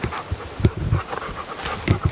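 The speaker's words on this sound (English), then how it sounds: "Cutter's been barking over here for 20 minutes." A dog named Cutter panting in short rhythmic breaths near a tree, with a few soft whimpers, close by and without talk.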